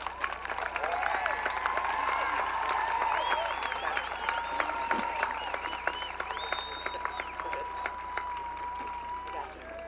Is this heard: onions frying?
no